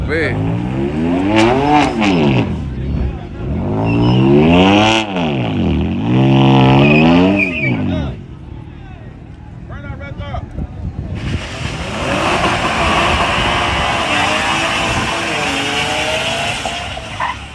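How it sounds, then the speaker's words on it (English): A car at a street track event does a burnout, the engine revving hard in rising and falling sweeps, then tires screeching into a long hissing roar of spinning rubber, with voices in the background. "You know how to do a burnout."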